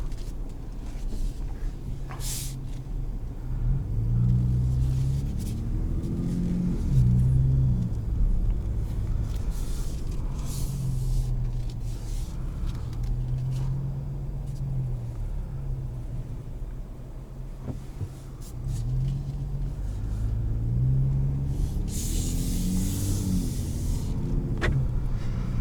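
A 2021 Ford F-150 Raptor off-road truck rolls along a road and drops through a dip, its low engine rumble and suspension thumps steady inside the cabin, with a brief rattling knock midway and no talking.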